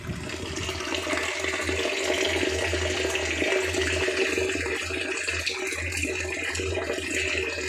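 Water pumped up through a hose into a raised drum mounted on an upper level for cacao planting, a steady loud rushing and splashing with a low pump-like rumble running unbroken throughout.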